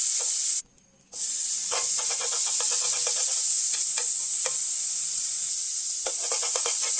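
Margarine and oil heat in a pan with a steady, bright sizzle throughout, broken by a brief near-silent gap early on and a few soft scraping or clicking touches; no voices.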